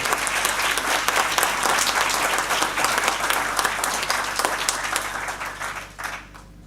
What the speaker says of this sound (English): Again, let's have another round of applause for Mr.